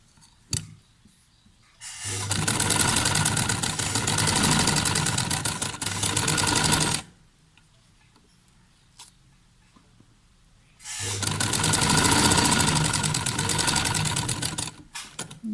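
A sewing machine runs in two long bursts while stitching a square and V-shaped neckline, a loud, steady close-up whir separated by a quiet pause, with no talk.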